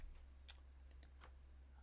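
Typing on a computer keyboard during a software configuration session, a handful of faint, sparse key clicks over a low steady hum.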